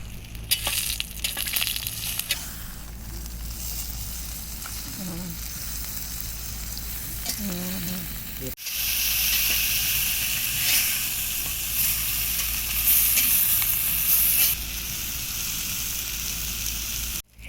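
Meat sizzles loudly on an outdoor firewood grill, a continuous close hiss and crackle that grows brighter and more intense halfway through after a clattering handling noise.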